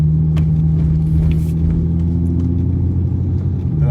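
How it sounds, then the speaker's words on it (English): A loud car exhaust fitted with headers and carrying an exhaust leak rumbles steadily in downtown Jackson, Mississippi, a deep continuous drone close by with no talk over it. "It's got headers and all that stuff, but it has an exhaust leak too right now"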